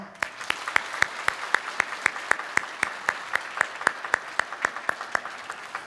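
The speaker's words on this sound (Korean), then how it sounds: "우리 인사할 때 박수와 격려 부탁드립니다." A church congregation claps in steady unison during a Sunday worship service, sending off a missionary bound for a church in Bristol, England; evenly spaced claps repeat quickly and continuously with no talking.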